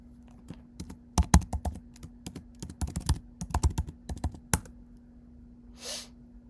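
Keys clacking on a Mac computer keyboard, a quick irregular run of close, crisp taps over a steady low hum, then a brief soft swish near the end.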